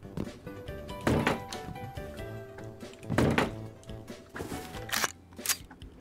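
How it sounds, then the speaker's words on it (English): Turrets being placed in the Rust video game, heard as a few solid, hollow thunks spaced a couple of seconds apart over quiet background game sound. "Okay, turrets are placed"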